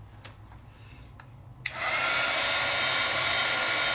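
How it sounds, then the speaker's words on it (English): Heat tool switching on and blowing steadily, drying stamped ink on vellum for papercraft; a click starts a loud, continuous broadband whoosh that holds to the end after a quiet start. "You can take your heat tool."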